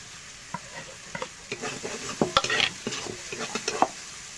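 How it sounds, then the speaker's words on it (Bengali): Spice paste frying in a pan for a pointed gourd and prawn dish, a soft sizzle under scattered spatula scrapes and taps that grow busier midway, close and fairly quiet, no speech. "মশলাটা একটু কষিয়ে নিয়েছে, এবার দিয়ে দেবো জিরে ধনে বাটা"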